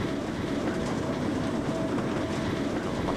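Trainz video game class 08 shunter hauling six wagons up a gradient, a dense continuous diesel and rolling-stock rumble with a faint whine, steady and close throughout.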